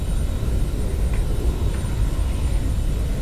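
A propeller airplane's engine drones steadily throughout, a constant low rumble with broadband noise that never fades in or out.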